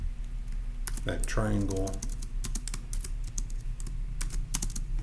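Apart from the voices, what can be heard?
typing on a computer keyboard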